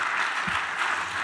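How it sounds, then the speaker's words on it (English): An audience at a public transport conference gives a short round of applause, a dense, steady wash of clapping with no voices over it. "Round of applause."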